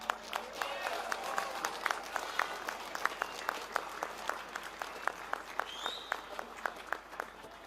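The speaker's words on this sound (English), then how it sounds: "Another round of applause for Tim there." An outdoor crowd at a British farmers' protest against inheritance tax in central London claps for a speaker, scattered distant applause with a few sharp nearby claps standing out against the open-air hum.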